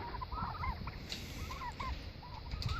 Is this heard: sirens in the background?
no